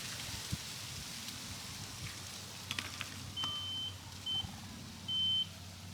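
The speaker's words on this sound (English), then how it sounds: "So when I hear the beep, I'll know that I've hit water." A water level meter beeps as its probe touches water down a well at a wildlife conservation area: three short, high electronic tones close by, over steady rain-like outdoor hiss.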